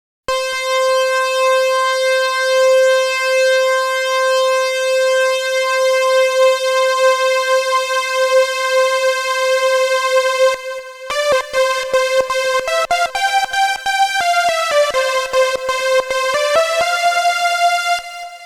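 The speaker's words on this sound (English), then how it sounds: "that's our basic detuned sawtooth wave" A supersaw synth patch of eight detuned sawtooth oscillators plays a sustained bright, buzzy single note, then shifts into a quick series of stepped notes, loud and alone with no voices.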